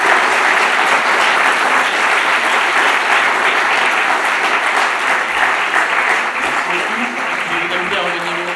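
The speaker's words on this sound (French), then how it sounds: "Vous pouvez les applaudir." A conference audience at a Paris debate on cryptocurrency applauds the panel, a loud, dense and sustained ovation of many hands clapping continuously throughout.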